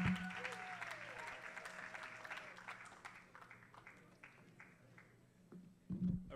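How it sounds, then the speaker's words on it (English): Applause from a debate competition audience, a fairly faint patter of clapping that gradually thins out, with a brief low tone early on and a short burst of other noise at the end. "Round of applause for Adeleke University."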